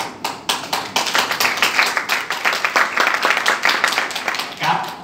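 Lively audience clapping at a Vietnamese business training seminar, with distinct rhythmic hand claps over several seconds and voices talking over them.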